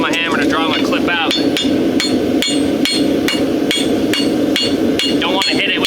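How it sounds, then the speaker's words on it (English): Close, ringing hammer blows fall on a horseshoe held to the anvil as a farrier draws out the toe clip with the hammer's heel, a steady run of sharp metallic strikes roughly two per second with bright overtones. "I'm using the heel of my hammer to draw my clip out."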